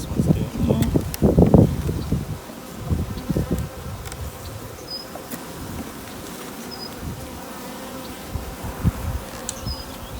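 Honey bees buzzing around a swarm hive, a close, loud drone with rustling handling noise at first, then a softer steady hum from many bees carrying on alone.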